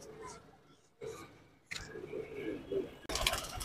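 Colored pigeons in a breeding setup give soft, short coos and bird sounds close by, broken by faint clicks and handling noise, with people talking quietly around them.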